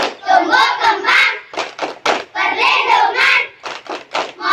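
Schoolchildren at an elementary school perform the rhythmic 'Tepuk hak anak' clapping chant in unison, loud group voices chanting in bursts punctuated by sharp sets of claps.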